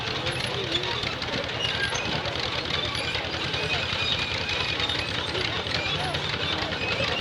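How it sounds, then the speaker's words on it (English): A 1950 John Deere MC crawler runs steadily in a parade at a thresheree, its engine giving a continuous low rumble and chug beneath crowd murmur and talking. "So this is a John Deere, a 1950 MC crawler."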